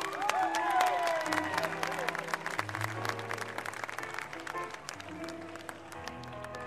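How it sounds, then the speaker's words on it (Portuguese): A concert audience applauds and cheers while a band is introduced on stage, with sharp claps scattered over sustained instrumental tones and some voices in the crowd. "Um aplauso para o Manuel Marques."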